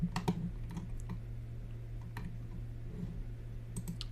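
A computer mouse clicks during work in AutoCAD Plant 3D, with a few soft, sharp clicks scattered over a steady low hum, close and quiet, with no talking.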